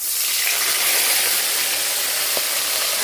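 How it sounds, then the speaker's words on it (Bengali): A small splash of water hits a hot, sizzling pan and sets off a loud, close, steady hiss of steam and bubbling that holds for a few seconds. "দিয়ে দিব অল্প একটু জল"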